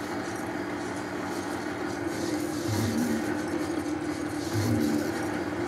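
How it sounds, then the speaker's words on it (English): Truck engine in the video game Infamous, a steady mid-pitched rumble that swells slightly as it draws nearer, with a busy background of game noise. "Is that another truck that I hear?"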